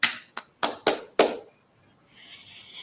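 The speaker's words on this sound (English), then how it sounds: "a big clap for myself for making that happen." A few sharp hand claps, about five in an uneven run, loud and close, followed by a quiet pause and a faint high tone.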